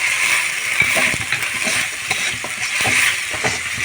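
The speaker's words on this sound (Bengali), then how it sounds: "সব উপকরণ খুব ভালো করে কষিয়ে নেব।" Fish masala with salt, a little sugar, chili powder and turmeric sizzles while being sautéed in a pan for a rui fish recipe; a steady close frying hiss runs throughout, broken by scattered stirring clicks and scrapes.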